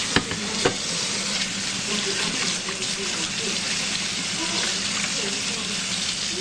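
Giardiniera vegetables rinsed under running tap water, a continuous close gushing splash with occasional knocks.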